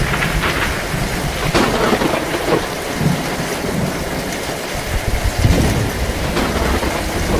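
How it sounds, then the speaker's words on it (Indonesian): Heavy rain pours steadily through a forest at night, with thunder rumbling loud and low underneath and a few sharper cracks standing out against the constant dense hiss. "Hujan yang turun malam hari itu adalah hujan yang pertama setelah sekian lamanya hutan itu"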